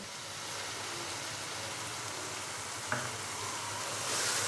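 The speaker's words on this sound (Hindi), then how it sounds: "यहाँ पे हम मसाले को अच्छे से भून लेंगे तकरीबन 5 से 7 मिनट के लिए" Masala with tomato and yogurt frying in a pan, giving a soft, continuous sizzle with a brief clink of a spoon stirring partway through, close and steady.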